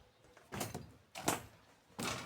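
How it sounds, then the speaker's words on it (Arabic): A door being closed makes three separate scraping, sliding sweeps, each a short broad rush of sound, close and moderately loud, with no one talking. "نقول هنا نسد هذا الباب"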